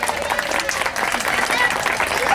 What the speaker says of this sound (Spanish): Un aplauso para este Don Quijote que lo ha hecho también.